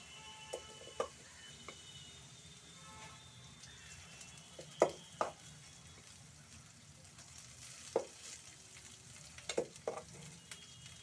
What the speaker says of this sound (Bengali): ভাতটা দিয়ে নাড়িয়ে নিচ্ছি